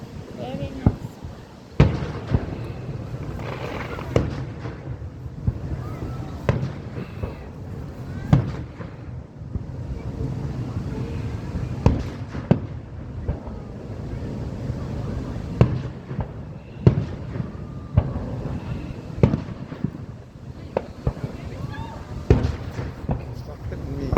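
Fireworks bursting outdoors on a windy evening, a series of sharp irregular bangs and pops at moderate distance, with people chatting in between the explosions.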